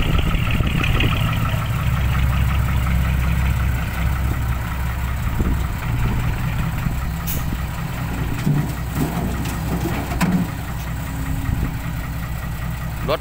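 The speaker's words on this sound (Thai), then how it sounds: "รถขุดโกเบโก" A Kobelco 140 excavator's diesel engine runs loud and close at a dirt pit, a steady rumbling throb with knocking undertones and occasional mechanical clanks, continuous throughout.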